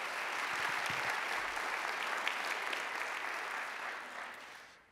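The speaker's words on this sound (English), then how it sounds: "Let's give them a round of applause as well." An audience gives a round of applause at a startup pitch competition. The clapping is broad and sustained, slowly tapering near the end before cutting off abruptly.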